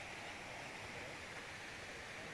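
Waterfall in Pai, Thailand, with water tumbling and babbling in a steady, dense broadband rush that stays constant and fairly loud throughout, with no voices.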